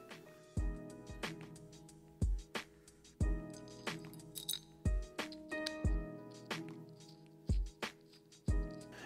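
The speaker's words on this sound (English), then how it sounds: "Gonna have to assemble this throttle housing." Metal parts of a dirt bike throttle housing clink and tap together during assembly, a series of sharp close knocks in an irregular rhythm with quiet gaps between them.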